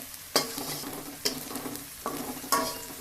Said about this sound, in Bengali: এখন পেঁয়াজ রসুন আদা সব কিছু সরষার তেলে ভেজে নিচ্ছি